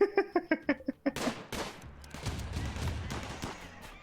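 Cannon fire in the colony-building game Rimworld: a quick run of about eight sharp, evenly spaced booms over roughly a second, followed by a dense, rumbling wash of impacts and debris that slowly fades.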